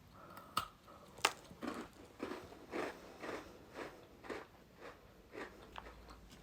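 Crunchy chocolate Moroccan snack biscuits, Dari Balek, are bitten and chewed close up, with a series of crisp crunches and cracks in an uneven rhythm, no talk over them.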